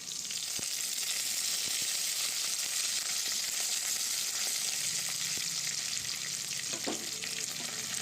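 Cashews, garlic, curry leaves and dried red chilies fry in hot oil, giving a steady, close sizzle with occasional stirring clicks and pops throughout.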